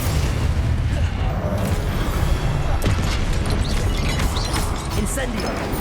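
A Confringo blasting curse explodes in Hogwarts Legacy, a loud, dense burst of booming, crashing game noise with heavy low rumble that fills the whole stretch, layered with sharp impacts and spell effects amid continuous combat.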